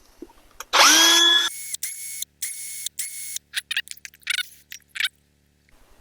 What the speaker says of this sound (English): Hit it with the old wire brush.